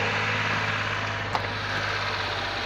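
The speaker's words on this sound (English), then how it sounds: "I'm just going to go and start the engine." A Perodua Nippa small car engine, newly fitted with replacement leads, idles steadily nearby with a low, even hum and a single brief click partway through, no voices.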